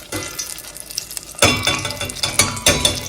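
Fruit fritters fry in a pan, a steady close sizzle joined by bursts of stirring and scraping with utensils, along with a few clinks of metal against the pan.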